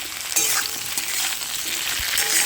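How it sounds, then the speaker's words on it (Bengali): Eggplant stirred into beans and carrots already frying in a pan makes a continuous crackling sizzle with light scraping bursts throughout. "বেগুনটা দিয়ে একটুখানি এইভাবে ভালো করে নাড়াচাড়া করে নেবো"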